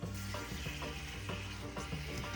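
Meat browning in a large soup pan of olive oil for minestrone, a steady close sizzle and crackle of frying with soft stirring scrapes running throughout.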